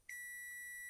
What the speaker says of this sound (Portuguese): Bipou também, não é para acontecer isso.